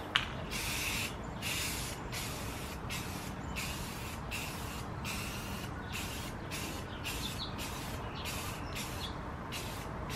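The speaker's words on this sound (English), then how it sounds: "So I just went out and got some white spray paint. And I'm gonna paint it white." White spray paint hisses from an aerosol can in a string of short and longer bursts separated by brief pauses, close and loud over a steady background rumble.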